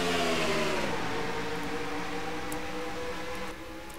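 Several race cars in a racing video game roar up together at a green flag start of an ARCA series round at Riki Raceway, engine tones rising in layered harmonic sweeps, loud and sustained, fading slightly near the end.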